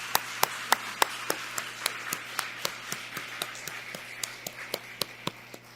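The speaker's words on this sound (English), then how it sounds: "let's give it applause" Sparse, steady clapping from an audience at a State of DeKalb Animals Address, heard as evenly spaced single claps, fairly faint and distant, with no voices.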